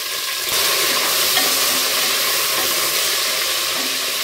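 Cinnamon, cloves, cardamom, mint and coriander leaves dropped into hot oil for a sea-fish biryani, producing a loud, dense hissing sizzle that surges up early and holds steady.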